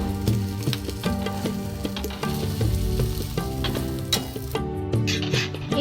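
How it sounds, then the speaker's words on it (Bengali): A wheat-flour egg roti frying in a pan, giving a continuous close sizzle with intermittent scraping and pressing knocks from a spatula, loud and free of talk. "এইদিকে আমার ডিম রুটি একদম কমপ্লিট, আর পুরো ভালো করে ভাজা হয়ে গেছে।"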